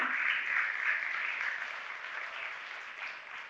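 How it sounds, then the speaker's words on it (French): Steady applause from an audience, a dense wash of clapping that holds level for several seconds and eases slightly toward the end. "vous pouvez les applaudir"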